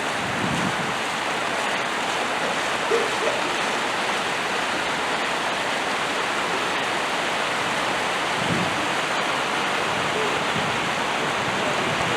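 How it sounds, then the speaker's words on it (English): Tap water from a northeast supply pours in a steady, loud, unbroken rush of splashing water with no voices. "that's a northeast tap water"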